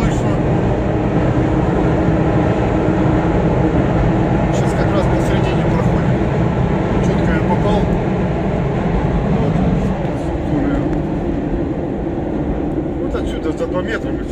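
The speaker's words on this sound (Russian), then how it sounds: "и паровоз слышно." A locomotive passing near a bridge produces a loud, steady, dense rumble that fills the whole stretch, easing only slightly toward the end.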